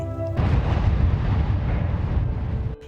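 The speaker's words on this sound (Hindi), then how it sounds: "अचानक से एक और जोरदार धमाका हुआ।" A loud, deep explosion in a mine during a collapse erupts into a roaring rumble that lasts about two seconds before cutting off abruptly.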